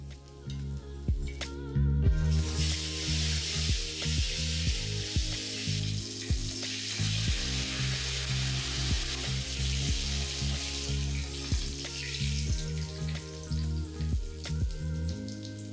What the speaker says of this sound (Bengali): যেহেতু আমি এটা ছোটো কড়াইতে করছি তাই ওভারলোড না করে একটা একটা করে আমি মাছের মাথাগুলোকে ভেজে নিচ্ছি।